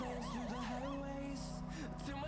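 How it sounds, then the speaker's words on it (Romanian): A police siren wails in GTA 5 with the LSPDFR police mod, a loud, steady, fast up-and-down electronic warble that runs the whole time with no speech over it. "Stai să oprești și eu Sirena asta de nimic."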